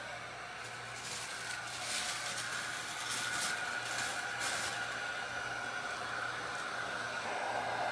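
A heat tool blows steadily to dry a craft transfer on a bedroom serving tray, giving a faint, continuous whooshing hiss with a low hum underneath and no one speaking.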